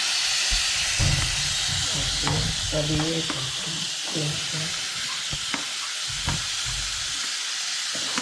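Two large onions hit a hot pan for paneer butter masala and sizzle and hiss steadily, while a spoon scrapes and clatters against the pan at close range.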